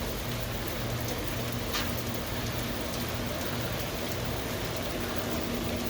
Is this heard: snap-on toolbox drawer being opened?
no